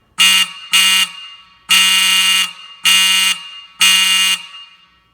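A fire alarm in a home mancave test setup sounds in five loud, close bursts, two short blasts followed by three longer ones, each a harsh buzzing electronic tone with short gaps of silence between.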